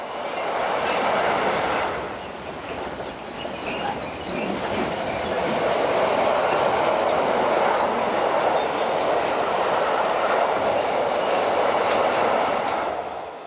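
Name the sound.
electric locomotive 185136 hauling freight train of vans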